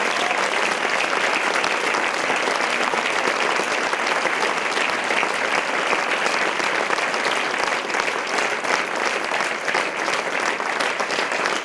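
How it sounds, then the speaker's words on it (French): Sustained applause from a large audience thanking the team behind a two-year production, dense and steady throughout without pause. "Donc on peut applaudir tous ceux."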